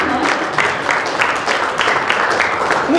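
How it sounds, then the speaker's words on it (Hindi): Applause from a crowd welcoming guests at a celebrity cricket team jersey launch, a steady wash of many hands clapping throughout, fairly close and continuous. "जोरदार तालियां हो जाए इस स्वागत में"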